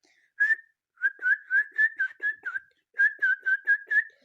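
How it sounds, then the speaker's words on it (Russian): A person whistles a short melody without blowing air, with a single note followed by two quick runs of clipped, evenly spaced notes at close range. "И можете всякие музыки составать."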